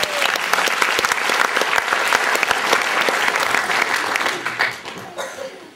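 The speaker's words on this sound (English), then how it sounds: "Give them both a big round of applause." A theatre audience gives a big round of applause after a chains escape act, dense rapid clapping that holds strong for several seconds before fading, with faint laughter and voices mixed in.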